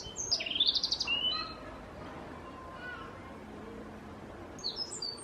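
A blackbird sings outdoors, with a burst of bright chirping phrases at the start and a few more notes at the end, while a voice talks quietly in between.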